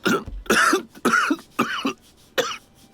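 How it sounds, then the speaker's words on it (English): A video game character in Root Letter gives five harsh, rasping coughs in a steady rhythm, loud and close, each a short strained burst with a brief pause between. "That is a good cough."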